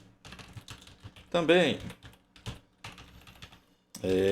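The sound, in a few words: typing on a bad computer keyboard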